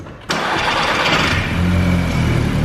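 A VW Golf GTI or Audi TT engine cranks and catches after a brief quiet moment, then settles into a steady, loud idle close by.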